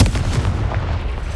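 A Confringo fire spell blasting in the video game Hogwarts Legacy, a deep booming burst that rumbles on through the short moment with no voice over it.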